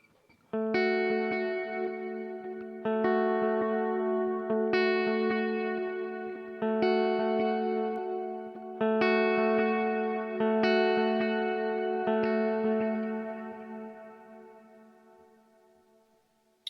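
Modern worship-style electric guitar chords ring out repeatedly in a steady rhythm, each one blooming into a washy, reverb-drenched tail that fades at the end.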